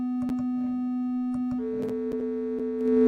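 Two steady sine tones at 440 Hz and 250 Hz sound together, a clean, continuous electronic pair with a slight clash, joined by occasional faint clicks and rising a little in level near the end; no one speaks.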